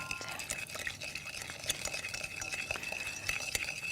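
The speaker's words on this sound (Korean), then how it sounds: "미니 거품기로 요거를 잘 저어주셔도 좋고요" Mini whisk scrapes and clicks quickly against a bowl, beating vinegar, salt and sugar into a basic French dressing in a TV kitchen, with brief voices in the background.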